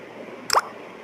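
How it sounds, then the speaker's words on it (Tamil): A single soft plop as cut drumstick pieces drop into a pot of sambar, brief and close, over a quiet background. "கட் பண்ணி வச்சுருக்க முருங்கைக்காய் போட்டுக்கணுங்க"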